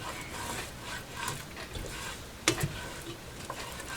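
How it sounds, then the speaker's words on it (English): Onions softening in warm oil in a pan give a soft continuous sizzle with scraping stirs from a small spatula and a sharp clack of the utensil against the pan, fairly quiet and without talk. "I've added my onions and I'm stirring them around so they can soften up a bit"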